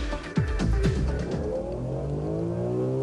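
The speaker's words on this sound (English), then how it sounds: "The M3 on full speed ahead." A BMW M3 driving flat out on a test track, its engine revving up through rising pitch sweeps into a steady loud drone, close and alone.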